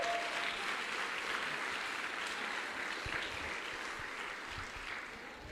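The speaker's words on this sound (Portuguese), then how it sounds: "Você devia assim aplaudir, dizer glória a Deus por essa palavra!" Applause from a church congregation during a sermon, a steady wash of clapping that stays fairly even for several seconds with faint background murmur.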